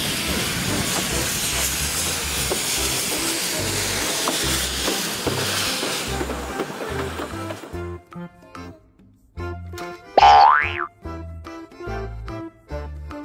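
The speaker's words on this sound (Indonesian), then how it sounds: "Kereta Thomas." A toy Thomas steam train gives a long, loud hissing burst of steam, followed by rhythmic chugging and clicking of the toy train with a brief whistle-like tone near the end.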